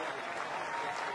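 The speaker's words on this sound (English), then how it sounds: "A round of applause from everyone concerned." Cricket crowd applauding after a record-fast batting fifty in an international match against Sri Lanka, a steady wash of clapping that stays even and fairly loud for the whole short burst, with no talk over it.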